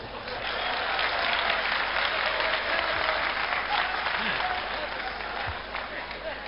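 A live audience at a stand-up comedy show bursts into loud, sustained applause, dense steady clapping filling the room for several seconds with crowd murmur mixed in.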